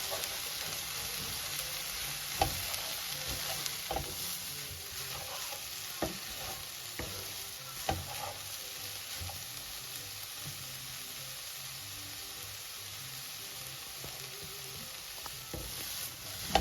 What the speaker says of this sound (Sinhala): මේ ඔක්කොම එළවලු ටික ටිකක් තෙලෙන් බැඳෙන්න